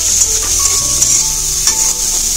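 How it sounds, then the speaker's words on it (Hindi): Red amaranth greens stir-fry over high heat in a pan, a loud steady sizzle with scraping stir strokes throughout, no talking. "अगेन थोड़ा सा हाई हीट पे भूनेंगे"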